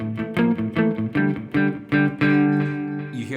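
Clean electric guitar power chords struck in a steady rhythm, about nine full, sustained strums close up, with the last one ringing out and fading.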